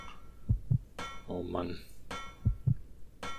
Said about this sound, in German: Herzschlag.